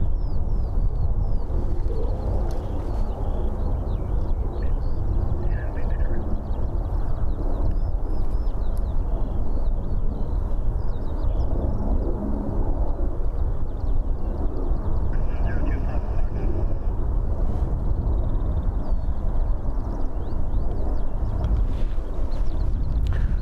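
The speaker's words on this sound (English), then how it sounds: "here's some helicopter content" A steady, loud low rumble of a nearby helicopter flying near Christchurch airport, New Zealand, constant throughout with no voices.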